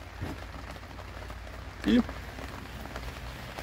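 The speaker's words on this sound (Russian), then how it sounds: "На улице, да, такая пасмурная погодка, дождичек." Light rain falls outdoors on an overcast day as a steady soft patter under a quiet background, with a brief louder knock midway and a single short spoken word.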